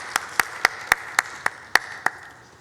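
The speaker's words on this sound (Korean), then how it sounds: "박수 올려드리겠습니다" Eight slow, evenly spaced single claps sound close and sharp over a faint steady room hum in a Korean church service, after a choir's hymn.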